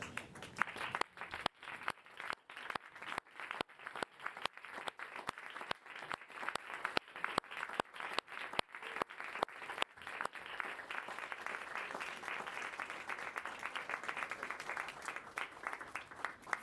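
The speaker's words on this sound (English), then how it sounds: "give them a large round of applause, please." A large audience standing at a diplomates' ceremony of a royal college of surgeons gives a long, sustained round of applause, dense and even at first, then thinning into a softer, steady patter toward the end.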